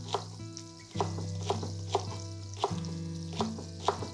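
Chopped onion and green garlic frying together in a pan for a mushroom curry, giving a steady close sizzle broken by regular soft clicks and scrapes of stirring.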